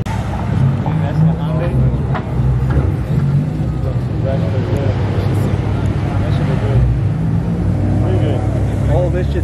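A Mazda Miata doing a burnout at an outdoor car show, a loud steady engine roar with tire noise carrying over nearby crowd chatter and people talking.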